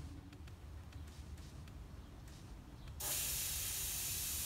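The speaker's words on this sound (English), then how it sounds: "The been concentrating my spray along this edge because you can't really get down in there to spray directly on that edge." Glaze is sprayed onto a large thrown ceramic salad bowl. Faint background noise and soft ticks come first, then a loud, steady hiss of spray starts abruptly and holds to the end.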